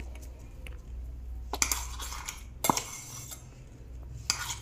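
Ground green chili and garlic are mixed in a bowl for a village-style chutney, producing sparse clinks, taps and scrapes against the bowl at irregular intervals over a low, quiet hum.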